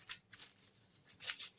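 Scissors snip through a sheet of tissue paper being trimmed for sticker printing, a handful of crisp, quiet cuts in short bursts with soft rustling between them.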